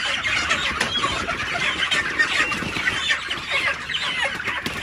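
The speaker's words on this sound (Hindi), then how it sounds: "थोड़ी मुर्गियों की भी वीडियो बना लेते हैं" Chickens cluck steadily throughout, a dense farmyard chorus of overlapping clucks close by with no talking.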